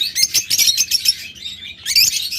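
Lovebirds and budgerigars chirp in a dense, shrill chatter of rapid overlapping tweets, close and loud with a brief lull in the middle.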